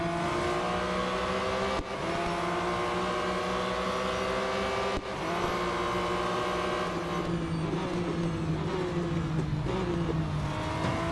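Porsche race cars in the Real Racing 3 video game, a pack of about 40 on track, their engines droning steadily and layered at high revs with rising and falling pitch, no talk over them.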